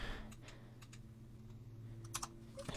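Computer keyboard keys tapped quickly during 3D modeling work in Blender, soft scattered clicks over a low hum, with a short cluster of taps near the end.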